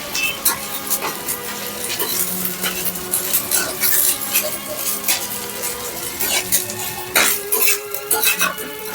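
Fried vegetables with ginger paste are stirred in a pan, a continuous clatter of spoon scraping and clinking against metal over a light sizzle.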